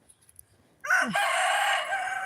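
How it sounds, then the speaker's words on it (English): A Bantam rooster crows once, close and loud, a rising harsh opening note that breaks into a sustained, bright cock-a-doodle call after a few quiet moments of faint background sounds. "this is our Bantam Rooster Amethyst"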